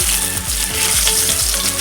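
A fish head frying in oil in a pan, a loud, dense, continuous sizzle close up with no voices.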